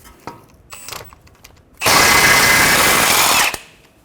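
Nearby, a power tool with a 17mm socket whirs loudly in one sustained burst of under two seconds, removing a ball joint nut on a Toyota Highlander, after a few light metallic clicks and handling sounds.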